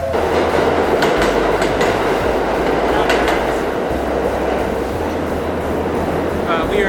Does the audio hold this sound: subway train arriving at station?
yes